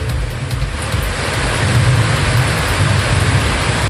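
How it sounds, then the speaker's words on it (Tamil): Heavy rain pours down steadily in Cuddalore, a dense, loud, continuous roar of water with a low rumbling layer beneath that swells slightly partway through, no voices present. "கடலூரில் ஒரு மணி நேரத்திற்கு மேலாக கனமழை கொட்டியதால் சாலைகளில் வெள்ளம் போல தண்ணீர் பெருக்கெடுத்தது"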